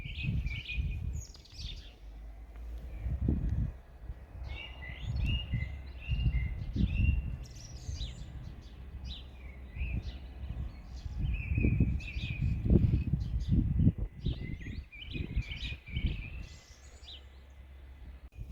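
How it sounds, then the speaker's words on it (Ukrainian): Birds sing in a village outdoors under overcast weather, repeated chirps and warbling phrases at moderate distance over low rumbling and rustling background noise. "Трішки вам співу пташок записала, дуже гарно співають."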